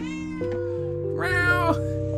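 A hungry cat meows up close: two drawn-out, wavering meows follow one another with no pause, clear and fairly loud.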